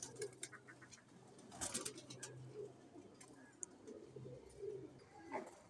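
Pet pigeons, including silver hammer and khaki breeds kept in pairs, coo softly in a loft, with several low murmuring coos spread across the clip, some faint chirps and a brief flutter near the middle, all fairly quiet.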